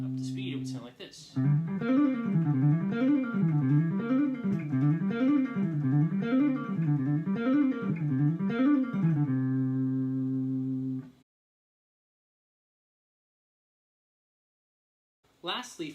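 Guitar plays rapid, up-to-speed Debussian sextuplet arpeggios in a rolling, wavelike pattern for about ten seconds, then a sustained chord rings out into silence.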